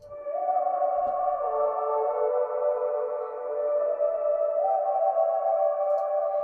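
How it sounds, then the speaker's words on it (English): A high-pitched hummed vocal layer for a melodic dubstep intro in Ableton, a smooth sustained tone that glides up and down between a few held pitches, alone and steady in level. "And then I have a really high-pitched one that sounds like this."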